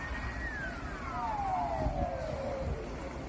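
A Russian Navy emergency vehicle siren responding to a building fire, a single long descending wail sliding steadily downward in pitch over several seconds, heard at moderate distance over low traffic rumble with no talk.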